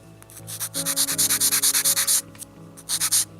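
Rhythmic back-and-forth rasping of file sandpaper shaping a miniature bowl, a quick series of close, evenly spaced strokes with a brief pause before a few more.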